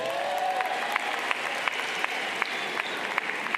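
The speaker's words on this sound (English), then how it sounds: "Give yourselves a round of applause." Applause breaks out from the audience at a high school graduation ceremony, a broad, moderately distant roar of clapping with a few sharper individual claps standing out above the crowd.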